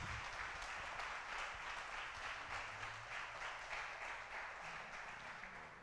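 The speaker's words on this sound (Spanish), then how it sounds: "Dele un aplauso a Dios" Church congregation applauding during a sermon, a steady dense wash of clapping held at an even level throughout, moderately distant and filling the room.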